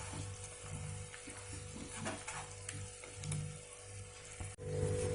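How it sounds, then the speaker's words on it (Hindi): Jaggery cooks and melts in a hot kadhai while being stirred, giving a soft, close sizzle broken by repeated scraping stir strokes, with no one talking. "अच्छे से चलाते हुए झाग आने तक हम गुड़ को पका लेते हैं।"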